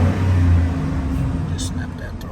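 Car engine revving as the throttle is snapped, a loud close rumble that surges at the start then settles to a rougher idle, with faint speech-like sounds over it.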